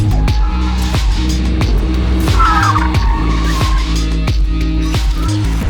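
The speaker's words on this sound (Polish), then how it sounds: "Znowu ten międzygaz, ekstra to brzmi." A loud Toyota GR Supra with manual transmission revs and shifts down, with sharp rev-matching throttle blips between gears and a brief tire squeal, close and continuous.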